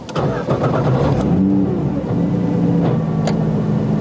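A car engine starts with a short crank and catches, then idles and revs as the vehicle pulls away, loud and close from inside the cabin, with a few clicks and knocks along the way.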